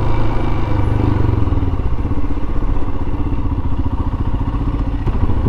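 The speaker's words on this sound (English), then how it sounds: "That's a road sweeper." A road sweeper passing on a London street, its loud engine rumble and clattering brush noise heavy and continuous throughout, close by, with no talk over it.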